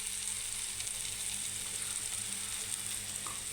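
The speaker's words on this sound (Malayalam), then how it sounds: "ഇത് നമുക്കൊന്ന് നന്നായിട്ട് വഴറ്റിയെടുക്കാം" Masala and ground spices sautéing in a pan, giving a steady close sizzle and faint stirring throughout, with no voices.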